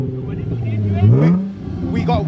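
A Jaguar F-Pace S engine revs up with a raw, loud straight-piped exhaust note after an exhaust delete, rising then settling, while a person talks over it.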